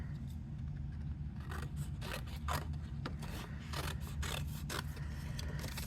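Cardstock is trimmed by hand, probably with a paper trimmer, ahead of embossing with a Spellbinders embossing folder and large die. It comes through as a run of close, dry slicing and scraping strokes repeating over a low steady background hum, and no one speaks.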